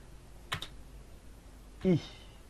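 A couple of sharp, isolated keystrokes on a computer keyboard while a name is typed into a file-save box in PhotoFiltre 7, with a second brief click about a second and a half after the first in a quiet room.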